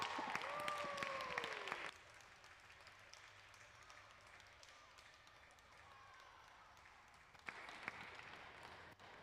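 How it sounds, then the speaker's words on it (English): Loud burst of clapping and cheering from a group at a visiting-artist event at the Museum of Glass, fading into a quieter lull before a second short round of applause near the end. "let's give them a round of applause"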